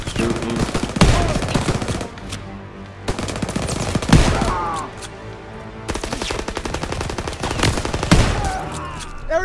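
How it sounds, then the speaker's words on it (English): Bursts of rapid automatic gunfire and single shots in a Call of Duty WW2 campaign battle, coming in loud clusters with brief lulls between them. "I'm shooting."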